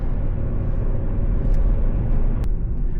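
A 25-year-old Ford Focus with a 1.4 engine idles steadily nearby, a low even rumble with no revving and no talk over it.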